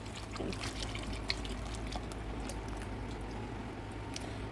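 Strained red chile sauce pours steadily into a pot for a pork stew, a continuous wet trickling and splashing over a low background hum, with no talking.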